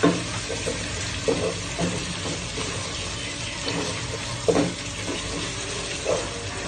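Whole spices, bay leaves, cloves and cardamom, sizzle steadily in hot oil for a Bengali chicken kosha, a continuous close hiss broken by a few soft clinks and stirring bumps.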